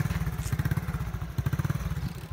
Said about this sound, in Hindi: बाइक स्टार्ट नहीं हो रही बाइक का मसला आ गया